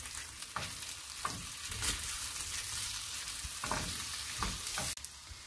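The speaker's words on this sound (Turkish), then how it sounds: "Birazcık da salça ile kızartacağım." Sliced sausages fry with tomato paste in a pan, a steady crackling sizzle broken by regular scraping strokes of a stirring utensil.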